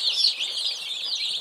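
Young barred rock laying hens on a farm keep up continuous bright peeping and soft clucking, several birds close together, even and unbroken from start to finish with no voices.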